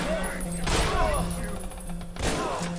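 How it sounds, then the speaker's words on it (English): Gunshots in the game Ashes 2063 ring out as a few loud, close bursts mixed with a busy game soundscape, with a voice speaking over them. "I'm shooting him instead."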